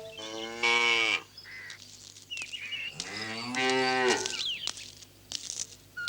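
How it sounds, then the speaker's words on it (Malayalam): A cow moos twice, long and loud, close by, with faint rustling and small sounds between the calls. "പശുവിനെ ഇതൊരാരും മാറ്റി കെട്ടിയിട്ടില്ലേ?"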